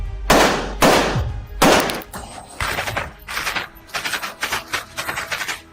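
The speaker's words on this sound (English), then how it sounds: "See now a Ukrainian shooter opening fire on Russian targets from a tank." Gunfire from a Ukrainian soldier shooting from a tank at Russian targets: about a dozen loud, sharp shots, first two heavy reports then a rapid, uneven burst of closer-spaced cracks, each trailing into rumble, with no talk.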